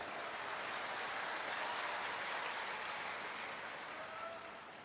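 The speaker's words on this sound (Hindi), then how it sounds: "ताली बजाना तो अच्छे से बजाओ" An audience at a ceremony laying the foundation stone for primary health centres in Panna claps in a steady, continuous wash. The applause sounds distant and fairly faint, then tapers slightly at the end.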